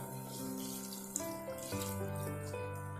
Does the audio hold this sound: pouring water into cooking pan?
yes